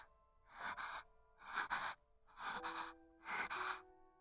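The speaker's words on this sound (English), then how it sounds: "Her breathing was getting so shallow that she couldn't speak" Shallow, labored breathing from a character in the visual novel game Chaos;Child: four evenly spaced, quiet gasping breaths over a faint sustained musical tone.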